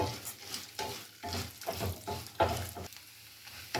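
Peanuts roast in a pan, with a soft sizzle and repeated rhythmic scraping and stirring strokes, close and fairly quiet, with no talk over them.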